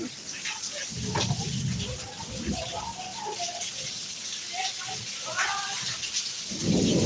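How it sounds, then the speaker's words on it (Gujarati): Heavy rain falling with thunder: a dense, steady hiss of rain on surfaces with low thunder rumbles rolling in at the start and again at the end, and voices faintly in the background. "વરસાદ બહુ આવી રહ્યો છે આજે તો તમે જોઈ શકો છો"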